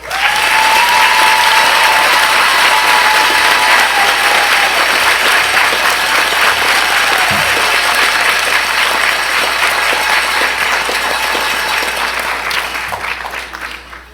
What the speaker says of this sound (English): Please help me and give a round of applause